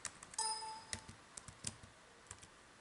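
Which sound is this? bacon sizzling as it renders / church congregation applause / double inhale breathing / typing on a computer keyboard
typing on a computer keyboard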